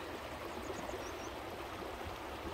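A gold-bearing river stream flows in a continuous close babble and rush of water, with faint bird chirps above and no speech.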